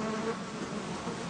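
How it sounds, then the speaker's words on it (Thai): Flies buzz around sea lions on a rocky island shore, a dense, steady insect drone close by that fills the short moment without pause. "แมลงวัน"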